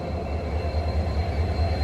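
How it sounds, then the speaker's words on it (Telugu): A container goods train hauled by twin diesel locomotives rolls past with a steady, dense low rumble and hiss of wheels on rails, loud and near, no voices. "twin diesel locomotives,"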